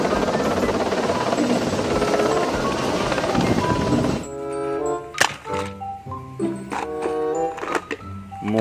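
A red toy helicopter: a dense, loud whirring buzz holds for about four seconds, then gives way to a jumble of electronic tones, clicks and clattering knocks, close by and with no talking.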